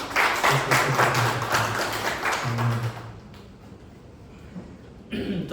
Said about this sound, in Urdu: زوردار تالیوں میں